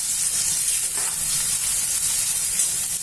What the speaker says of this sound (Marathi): कांदे चांगले ब्राऊन रंगाचे होईपर्यंत भाजायचे तेला